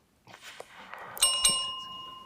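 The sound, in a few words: quiz show bell signalling the end of the round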